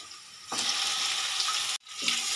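Prawns tipped into a pan of browned onions for an okra and prawn dish, bursting into a loud, steady sizzle that stops briefly and resumes, with no talk.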